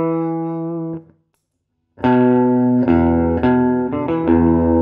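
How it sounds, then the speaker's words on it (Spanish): An electric guitar with chorus and reverb effects, routed through an OMEC Teleport audio interface, rings out a held note, pauses, then plays a series of shimmering, sustained notes that blend into a lush wash. "Y ahora en el lado derecho tenemos chorus y reverb"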